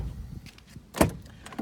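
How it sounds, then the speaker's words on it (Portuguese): A single solid thump near the middle as the door of a 2020 Fiat Doblo 1.8 Essence seven-seater shuts, preceded by faint handling rustles and followed by a small click. "Deixa eu fechar essa porta aqui."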